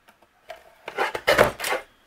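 Paper snowbank pieces for a winter tunnel card being trimmed down, a short close scraping and slicing run of a few rough strokes building over about a second, with no talking.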